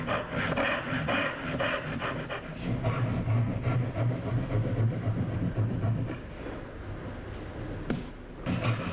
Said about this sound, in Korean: 앞뒤로 돌려가며 톱질을 합니다.